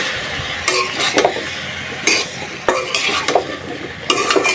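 Papaya and other vegetables with spices sauté in a pan, a loud close scraping of a spatula in repeated strokes over a steady sizzle, with occasional clinks against the metal and no talking.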